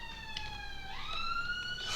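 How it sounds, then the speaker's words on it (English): A police or ambulance siren passes outside, its steady tone swelling upward in pitch and growing louder toward the end, heard alone with no talk. "And that's the police or the ambulance."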